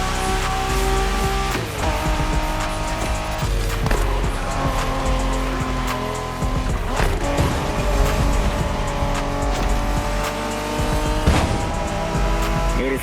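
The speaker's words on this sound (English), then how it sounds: "We're going for some proper Japanese street racing." Street race cars in The Crew Motorfest, on a Japanese-themed course, roar loudly up close with engines revving and repeated sharp tire squeals and skids through corners, one after another, with no talking.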